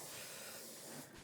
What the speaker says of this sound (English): Now I've got this heavy duty adhesive,